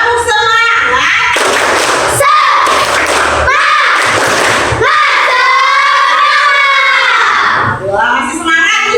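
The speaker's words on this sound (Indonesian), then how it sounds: "Anak-anak kita tepuk semangat ya." Schoolchildren in a class join in a loud rhythmic clapping chant, with bursts of clapping and shouted voices together at close range throughout.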